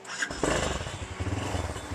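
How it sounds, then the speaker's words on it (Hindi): A 250cc motorcycle engine swapped into a WEGO 150 catches and settles into a rough, throbbing idle with a rapid low putter, fairly close, no talking; the silencer mesh is torn. "आपको एक दफ़ा ये बाइक स्टार्ट करके ना"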